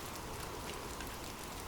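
Steady rain falling with a soft, even hiss and a faint patter of drops on a surface, continuous and moderately quiet, with no voices.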